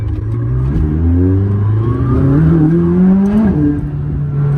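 A McLaren 600LT engine roars up through the revs with rising tones, shifting and climbing again, loud and close, heard from inside the cabin.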